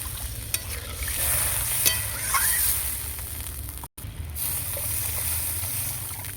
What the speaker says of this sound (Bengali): পরিমাণ মতো জল দিয়ে সেদ্ধ করে নেব